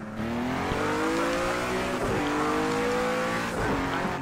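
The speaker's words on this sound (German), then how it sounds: "V10-Motor, V8-Motor im Cadillac. Die dröhnen ja bis zum geht nicht mehr." V10 and V8 Cadillac race car engines in Project Cars 2 at Sonoma Raceway, a continuous loud roar with rising and falling revs through gear changes and a faint tire squeal, no talking.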